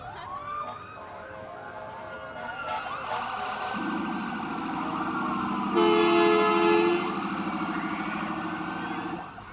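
Sheriff department vehicle sirens in a Christmas parade, several wailing and yelping tones overlapping, loud and close, with a blaring horn-like blast in the middle before the sirens carry on.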